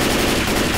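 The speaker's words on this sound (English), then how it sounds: "It's nice to have the explosive bullets though" Rapid explosive-bullet gunfire in the video game Left 4 Dead 2, a dense, loud, continuous burst of shots lasting under a second.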